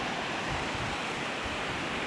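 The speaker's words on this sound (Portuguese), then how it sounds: "Tem muita água passando" Heavy, steady rush of rainwater pouring through road drainage pipes at a detour near Arapiraca after a night of rain, a constant broad roar close by with no voices.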